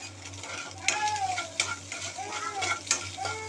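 Egg rice with vegetables stirred in a sizzling pan: repeated scraping strokes of a spoon against the metal over a continuous crackle of frying, close and fairly loud.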